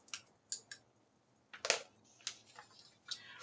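Scissors snip through paper in a travelers notebook, with a few short, crisp cuts spaced irregularly, close and fairly quiet with brief pauses between them.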